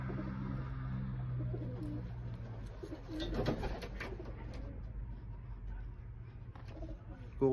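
Soft, low cooing of racing pigeons repeats in a quiet setting, with a brief rustle of wings midway and faint background noise.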